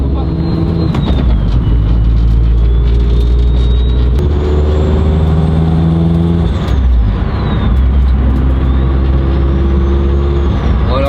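A Renault Mégane RS engine idles while warming up, producing a loud, steady, close low rumble throughout. Someone speaks French over it.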